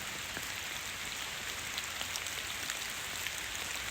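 Heavy rain pouring down in the woods at a solo campsite, a dense, steady hiss of drops striking surfaces with scattered sharper patters, close and unbroken throughout, no voices.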